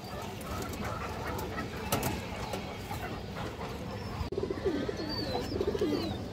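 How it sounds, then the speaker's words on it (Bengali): A pair of large Kaldom pigeons coo in soft, repeated low calls amid other birdsound, fairly faint against a busy background, with a brief click midway. "খুব সুন্দর এক পেয়ার কালদম কবুতর আছে মাশাআল্লাহ"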